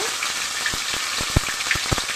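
Ginger, green chilli and cumin pastes dropped into hot oil with a fried tempering of cinnamon, cardamom and bay leaves, a bright steady sizzle broken by a few sharp spits and pops, close and with no talking.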